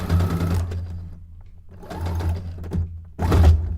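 Home sewing machine running a back stitch on fabric for a miniature townscape cone-shaped cape, in three short whirring bursts separated by pauses, with a clunk in the last burst.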